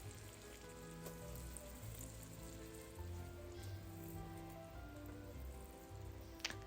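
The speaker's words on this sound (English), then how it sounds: "I'm just gonna sweat them down" Chopped onions sweating in a stock pot give a gentle, faint, steady sizzle that hisses evenly throughout, with a brief sharper crackle at the end.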